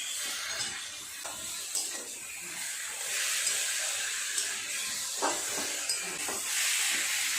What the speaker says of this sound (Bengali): তিল দেওয়া জলই আমি দিলাম।